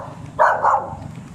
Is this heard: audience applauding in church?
no